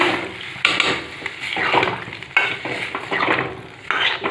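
Vegetables simmering in a pan after water is added, a soft bubbling hiss broken by several clear clinks of a spoon or spatula against the pan, close and fairly loud, with no talking.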